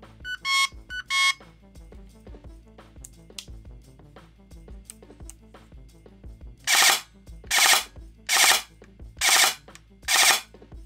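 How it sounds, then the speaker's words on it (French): Specna Arms SA-FX01 airsoft gun firing in three-shot burst mode, preceded by quiet beeps, then five short sharp bursts of rapid rattling shots in an even rhythm, close and alone. "Pour l'exemple, j'active le mode burst de 3 coups."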